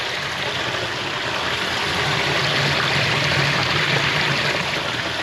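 Water pours steadily into a sump pump basin, a constant broadband rushing and splashing that stays loud and even for several seconds without anyone talking.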